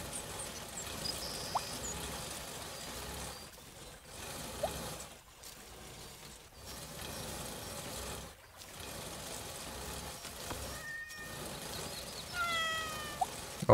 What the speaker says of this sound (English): Aw, the kitty's crying.